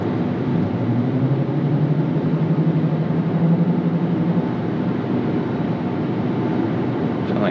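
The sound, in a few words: road noise while driving a Dodge Hornet GT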